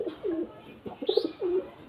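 Baby pigeons offered for sale give soft, repeated low coos, three or four gentle rounded calls close by with no other sounds.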